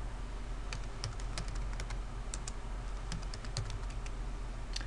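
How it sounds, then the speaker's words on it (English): Fingers typing on a computer keyboard, a steady patter of light, close key clicks with uneven rhythm over a soft background hiss, no voices. "I'm going to type in my teacher's name"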